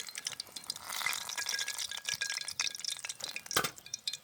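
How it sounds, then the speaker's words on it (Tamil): Egg samosas deep fry in hot oil with a busy crackling sizzle, broken by light stirring clinks and scrapes close by, moderately quiet with no talking. "இதே மாதிரி எல்லாத்தையும் பொரிச்செடுக்க போகிறோம்."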